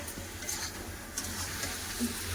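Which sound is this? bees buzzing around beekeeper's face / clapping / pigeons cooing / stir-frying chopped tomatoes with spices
stir-frying chopped tomatoes with spices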